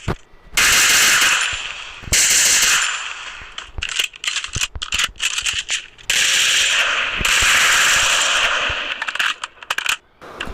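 Plasma gun firing in the mobile game Free Fire: two long, loud, harsh buzzing bursts separated by a stretch of sharp clicking and mechanical rattles from reloading, all close and without speech.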